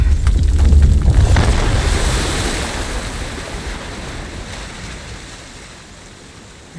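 Water surges loudly in Uncharted: The Lost Legacy, a heavy rushing roar with deep low rumble that slowly eases into a steady, softer wash over several seconds; no one talks.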